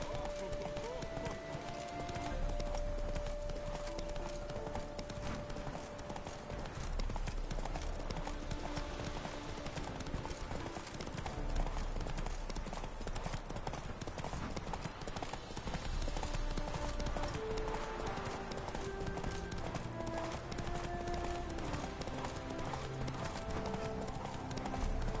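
Roach the horse galloping in The Witcher 3, a continuous rhythmic clip-clop of hooves with an occasional whinny, heard under someone talking and game music.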